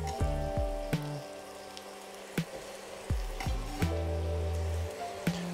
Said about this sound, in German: Röste das alles auch noch so ein ganz bisschen mit an.